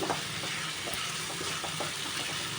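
Fried capsicum being stirred into a shrimp curry in a pan, a dense continuous sizzle with soft intermittent stirring scrapes, close and fairly loud with no voices.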